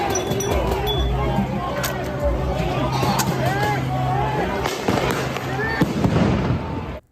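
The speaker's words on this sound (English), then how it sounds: "a clip actually from Nick Shorter Monday night in Portland showing Antifa attacking ICE with explosives, tear gas, you name it" Explosive blasts and pops ring out during a nighttime protest clash with ICE in Portland, Oregon, with loud crowd noise and shouting running throughout and several sharp bangs, some close and some farther off.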